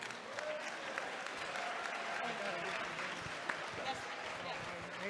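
An audience at a Chicago immigrant town hall claps in steady, sustained applause at moderate volume that carries on throughout, with voices faintly mixed in.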